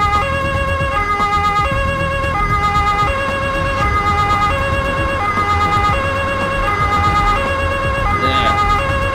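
Police siren from the video game Police Force wails steadily and loudly throughout, with a looping electronic tone over a rumbling vehicle engine, no speech.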